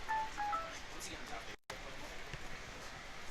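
A phone chimes with a short text-message notification, a few brief electronic tones near the start, faint over a quiet room at a card game event, with people talking in the background.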